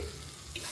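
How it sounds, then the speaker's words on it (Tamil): A little water trickles and splashes into a pan of sautéing cluster beans, a brief close wet splash heard alone. "கொஞ்சமாக தண்ணி தெளித்து"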